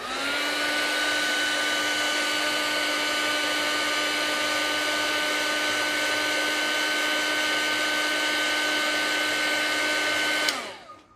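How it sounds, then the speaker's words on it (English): A heat gun blows hot air for a craft project, a steady close whooshing roar with a constant whine that runs unbroken and then cuts off abruptly at the end. "Be careful when you're using the heat tool because it gets really hot"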